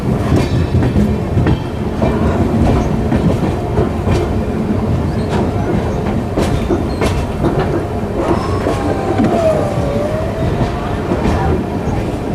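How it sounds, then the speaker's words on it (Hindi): A Jan Shatabdi Express hauled by a WAG9 electric locomotive rolls along with a loud, steady rumble and rhythmic clickety-clack of wheels on rail joints, heard close from on board with faint squeals and talk in the background. "ये रही अपनी पूरी ट्रेन। बरौनी WAG9 है ये।"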